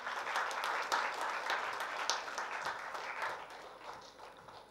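An audience at a college technical event applauds for an introduced guest, a steady wash of many hands clapping at moderate distance, fairly quiet and even throughout.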